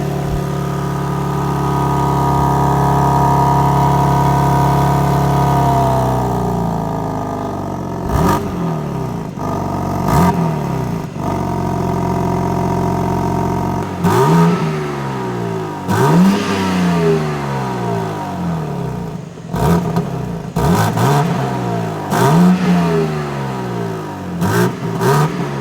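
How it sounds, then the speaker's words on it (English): Inline-six engine of a 2021 BMW G80 M3 idles with a steady hum, then gets blipped in a string of sharp revs that climb and fall quickly, each burst loud and close with gaps between. "it's an inline 6 at the end of the day. It's not gonna sound like a V8"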